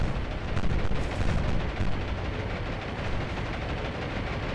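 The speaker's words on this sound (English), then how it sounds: "anti-aircraft fire from the front 4 ships, as you'd expect" Warships in the naval game War on the Sea put up anti-aircraft fire, a dense, continuous rumbling roar of guns and blasts holding steady throughout with no voices.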